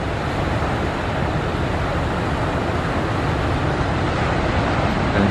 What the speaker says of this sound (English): Look at those huge waves coming through Rosebowl there this morning.